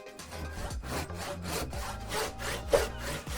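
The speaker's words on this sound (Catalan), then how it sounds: "La serra talla la fusta." A hand saw cuts through wood in quick, even back-and-forth strokes, each rasping pass close and clear, with a faint steady tone underneath.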